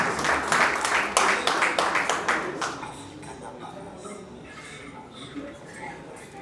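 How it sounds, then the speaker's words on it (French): An award-ceremony audience claps in a dense burst of applause that fades after a few seconds into scattered claps and murmuring crowd noise, with a voice heard faintly. "Encore une fois, applaudissez pour Vincent Chilouzi."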